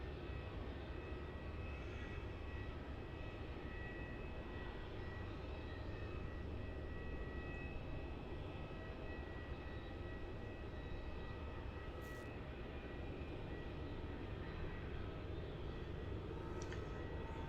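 An airliner on the runway at Melbourne Airport gives off a steady, loud, broadband engine roar that holds evenly throughout with no talk over it.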